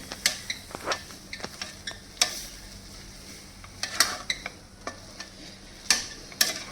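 A gulab jamun mixture being stirred and mixed in a vessel, with a series of sharp, irregular scraping and clinking strokes of a spoon against the pot over a faint background hiss, no speech.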